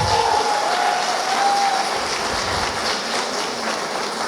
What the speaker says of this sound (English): Can we please give Jiya a big round of applause?